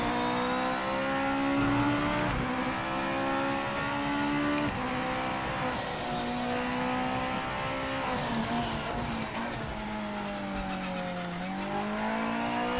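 GT500 race car engine in the Project Motor Racing video game, roaring steadily for about thirteen seconds with rising and falling revs through gear changes, loud and close, with a brief tire squeal and no talk.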